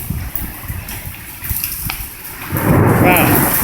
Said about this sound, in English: Just sheets of hail and rain.